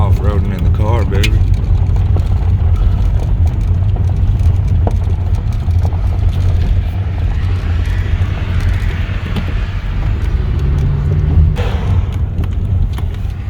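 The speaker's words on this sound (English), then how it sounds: "Off-roading in the car, baby." A car drives off-road on a rough track, its engine giving a steady low rumble with bumps and rattles, while people talk over it throughout.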